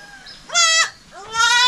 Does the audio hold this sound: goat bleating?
yes